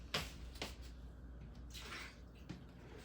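Water is poured into a cup in a home kitchen: a few faint, short splashing trickles separated by quiet gaps, close by and soft.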